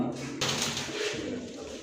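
A khaki pigeon gives low, soft cooing nearby amid faint background noise, a short murmuring call under a light hiss.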